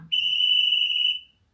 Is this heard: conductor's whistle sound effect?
yes